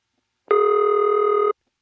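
Ringing tone from an AE step telephone exchange in plant 366: a single sustained, loud, even tone of about one second with sharp onset and cutoff, alone in silence.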